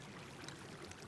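Water flowing in modded Minecraft, a faint steady trickling stream with no talk over it.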